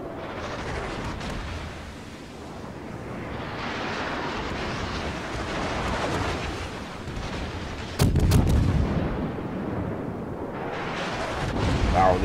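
A Mogami heavy cruiser's cannons fire at the Bismarck in the naval game World of Warships, with heavy booming salvos over rumbling battle noise and a sharp, loud burst of gunfire near the end.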